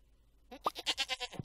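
A sheep in the Stardew Valley farming game gives one short, clear, wavering bleat, sounding close against an otherwise quiet background.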